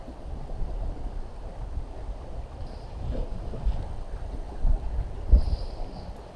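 Strong wind blowing across a lake from a fishing boat, a steady low rumbling roar of gusts buffeting the microphone, with occasional soft knocks, loud and continuous.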